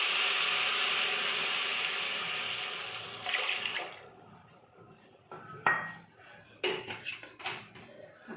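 Water poured from a vessel into sugar in a pan to make syrup for Puri temple khaja, a steady splashing stream that tapers off, followed by scattered clinks and light knocks of utensils.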